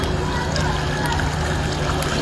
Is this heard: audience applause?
no